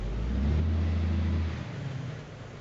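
A heavy truck in American Truck Simulator rolls away after its parking brake is released, with a low, steady engine drone for a second and a half before it drops a little quieter and continues rumbling.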